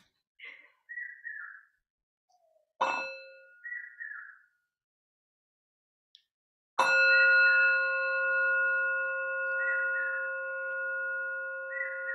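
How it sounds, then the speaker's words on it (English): A bell is struck, first briefly, then with a loud, long ringing tone that slowly fades, while a bird whistles short calls nearby. "So even the bird outside liked the bell"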